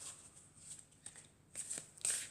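Oracle cards being drawn and handled from a deck, soft papery shuffling and slapping of cards, faint and close, in a quiet room.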